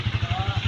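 A repaired motorcycle fresh from a motor shop runs close by, its engine pulsing in a steady, rapid idle-like rhythm through a brief stretch.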